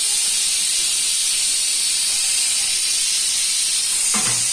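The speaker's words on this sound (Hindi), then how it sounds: "प्रेशर कुकर का प्रेशर रिलीज कर देते हैं" A pressure cooker vents steam while goat-head curry for a traditional Pakistani dish is being prepared, giving a steady, loud, continuous hiss throughout that breaks off into a brief clatter at the very end.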